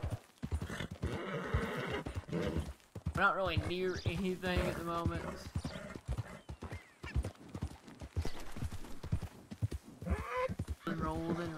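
Horse hooves clip-clop steadily in Red Dead Redemption 2 while someone talks over them continuously, with a short whinny-like call among the game sounds.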